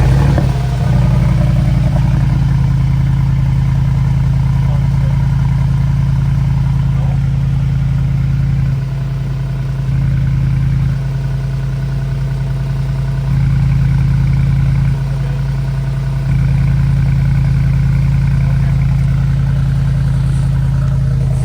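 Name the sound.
Mercedes G63 engine starting with FI axle-back exhaust, Sport Plus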